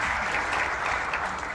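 An audience at a speech by the Baltimore mayor claps in a dense, steady round of applause that holds evenly for the whole moment, close and without speech.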